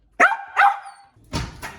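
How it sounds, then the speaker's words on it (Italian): A female dog barks sharply twice in close succession, then lets out a couple more rougher, muffled barks a moment later, loud and near with no talking. "Sta cagacazzo di un cane, state un po' zitta"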